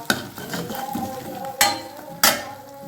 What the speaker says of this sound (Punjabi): ਹੁਣ ਆਪਾਂ ਆਪਣਾ ਮਸਾਲਾ ਚੰਗੀ ਤਰ੍ਹਾਂ ਭੁੰਨ ਲਵਾਂਗੇ